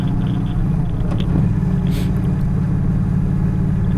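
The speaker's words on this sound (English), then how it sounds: "We got another car coming." A car approaching on a rural road, a loud, close, steady low rumble of engine and tire noise, with brief brighter swishes as it nears.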